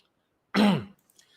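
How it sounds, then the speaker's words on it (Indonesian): A single short, loud throat clearing from one person, close to the mic, surrounded by quiet. "batuk dulu."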